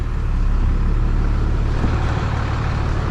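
A stock 12-valve Cummins dually pickup with a five-speed, crawling in first gear through mud, gives a steady, loud low diesel rumble that holds evenly for the whole stretch with no talking over it.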